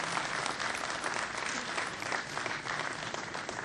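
A crowd applauds at the inauguration of the Kashmir Autumn FAM Tour 2018, producing a dense, even wash of clapping that stays at a steady level throughout.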